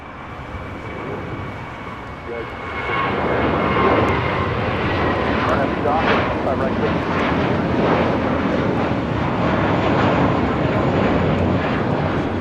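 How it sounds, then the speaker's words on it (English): A JetBlue Airways Airbus A321 takes off at LAX, a broad jet roar that swells after a few seconds and then holds loud and steady, heard from a distance across the airfield. "Next takeoff is JetBlue Airways flight 1124 heading to JFK."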